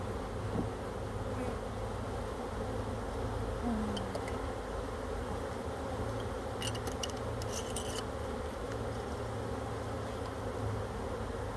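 Dense, steady buzzing of many honey bees packed in a jar during a hive mite check, a continuous close drone with a few faint clicks and rattles on top.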